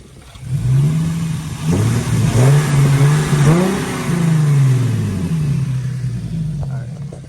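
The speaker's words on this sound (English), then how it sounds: "Do a small little rev." An Infiniti G37 engine with AFE Pro Dry S intake filters idles steadily nearby, then gives a couple of short, mild revs that briefly lift its pitch before it settles back to idle.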